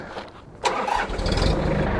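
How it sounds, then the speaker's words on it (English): A sub-compact tractor engine cranks and fires up close by, a brief starter whirr giving way to a loud, steady low rumble as it settles into running. "After that, we can fire the tractor back up"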